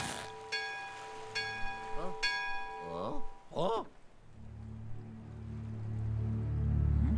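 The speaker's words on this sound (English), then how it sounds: "Ring the bell." A bell in Luigi's Mansion 3 rings out in several clear, bright strikes, each leaving a short humming tail, followed by swelling rumbling game ambience.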